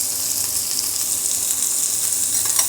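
Fish frying in a pan of hot oil gives a dense, continuous sizzle, steady and loud from close up, with no voices.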